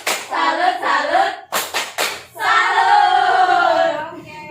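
A group claps a rhythmic salute in a family finance training session, sharp bursts of hand claps in a short patterned sequence, broken up by voices chanting and speaking around them.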